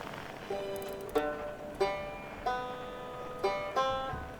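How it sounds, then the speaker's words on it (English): Banjo music picked up through a signal scope in the Outer Wilds video game: distinct plucked notes ring out in short repeated phrases at a moderate, slightly distant level, with no talk. "There's the banjo."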